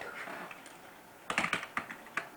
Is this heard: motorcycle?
no